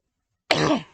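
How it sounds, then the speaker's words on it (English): A single sharp, close cough from a smoker, harsh and raspy, breaking a moment of silence and fading quickly. "I'm a smoker, so that's a cough."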